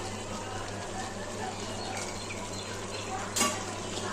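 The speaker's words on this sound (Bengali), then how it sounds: "আরেকবার নেড়ে নেব।" Chicken kosha being stirred in a pan, cooking in its own released juices without added water, gives a steady low sizzle with soft scraping and one brief louder clank near the end.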